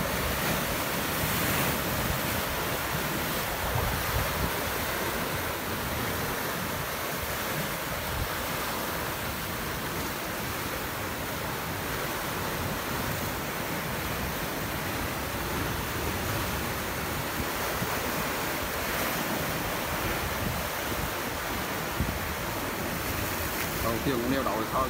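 Rough seasonal sea surf breaking against the basalt rocks of Gành Đá Đĩa below a lighthouse, a continuous loud roar of crashing waves with wind buffeting the microphone throughout.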